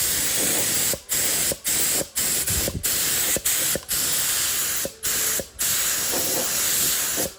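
A spray gun laying paint on a 1971 Plymouth GTX panel, hissing in repeated short bursts of about half a second to a second, with abrupt gaps between passes, loud and close.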